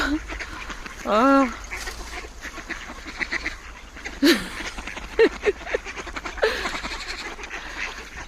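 Loud honking duck calls, one long burst followed by several short scattered quacks, close by outdoors in below-freezing cold over a steady rumble.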